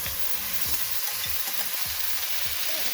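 Brussels sprouts, garlic and scallions sizzle in meat juices in a pan, with a steady frying hiss under repeated rhythmic stirring scrapes close by.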